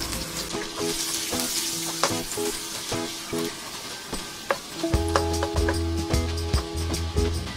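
Chopped onion sizzles in melted butter in a pan, a close, crackling fry with scattered stirring clicks and the sizzle growing louder toward the end.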